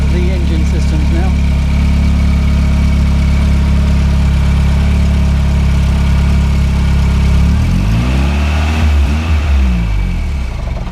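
A car engine idles close and loud on alternator power alone with the battery disconnected, a steady low hum throughout that wavers briefly in pitch near the end.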